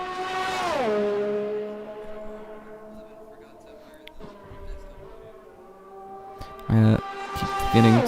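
Race cars in a Canadian GP racing video game, an engine note sweeping down then holding a steady tone, with later sharp revving bursts and a low rumble underneath, moderately loud.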